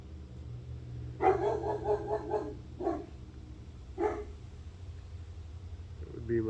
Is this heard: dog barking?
yes